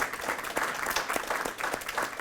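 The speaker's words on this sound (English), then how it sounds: "let's give her a nice round of applause, Shelley." An elementary school audience gives a round of applause for a school nurse at a wellness center ribbon cutting, with steady, moderately loud clapping from many hands filling the whole moment without pause.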